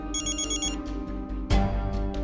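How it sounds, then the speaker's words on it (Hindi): A phone rings with a steady electronic ringtone, close and clear, its repeating tone pattern continuing throughout; near the end a thump or bump briefly sounds over the ringing. "इसका फिर से फोन आ रहा है, क्या करूं मैं?"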